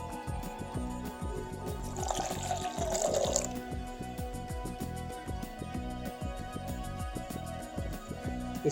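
Water is poured into a pot while Kashmiri pink chai is made, a short pouring splash rising briefly over steady background music.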